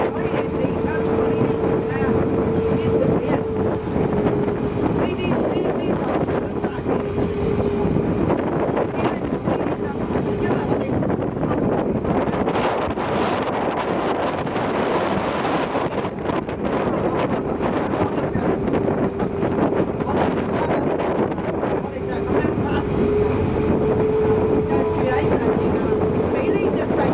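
An old fishing boat, about 35 years old, moves through Aberdeen harbour with a steady, loud engine drone and a low hum, while wind buffets the microphone throughout.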